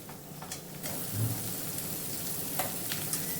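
Chicken curry sautéing in a pan over a medium gas flame, a steady sizzling hiss with scattered pops and a few stirring scrapes, close and moderately loud.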